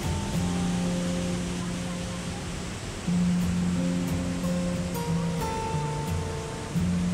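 Steady broadband rush of water streams pouring continuously over a stone-carved shivling at Bhimashankar, loud and close, with a faint tonal hum running underneath.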